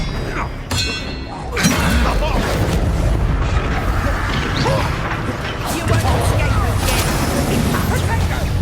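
Bombarda spell explosions during combat in Hogwarts Legacy, a video game: loud, booming blasts with shattering crashes and thuds, layered over dense, continuous battle noise.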